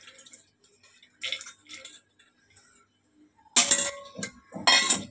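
Soaked lentils tipped into a pressure cooker: soft wet drips and light metallic clinks at first, then two louder bursts of pouring and clattering against the pot near the end.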